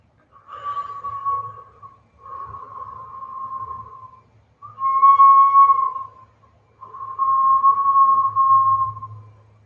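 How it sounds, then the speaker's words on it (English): Whistling breath during a Kundalini yoga breathing exercise comes as four drawn-out, steady whistle tones separated by short pauses, close and clear against a quiet background. "utilizing that whistling breath for 1 minute"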